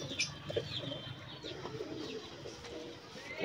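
Pigeons eating grain nearby coo softly in low, throaty bursts, with a few brief chirps mixed in over faint background noise.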